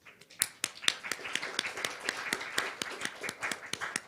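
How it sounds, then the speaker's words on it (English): An audience applauds to welcome a doctor speaking at a biotech and healthcare investment forum, a steady patter of many hands clapping with sharp individual claps standing out, sustained throughout at moderate loudness with no talking. "Please let's welcome Dr. Dinesen with our applause."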